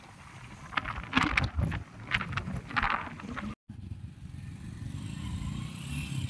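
Motorcycles on a group ride of six bikes, engines droning with wind buffeting the microphone, a brief dropout, then a steadier rushing roar of riding at speed.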